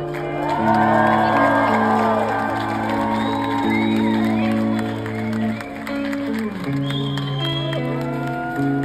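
A concert crowd in Sofia cheers, whoops and shouts for a singer, a sustained roar over held musical tones, with a voice on the microphone.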